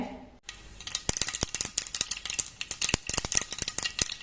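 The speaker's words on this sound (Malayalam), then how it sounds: "ഇപ്പോൾ കടുക് പൊട്ടിയിട്ടുണ്ട്" Mustard seeds splutter and pop in hot coconut oil in a pan, a fast irregular crackle of sharp close snaps that starts abruptly after a brief pause and keeps going.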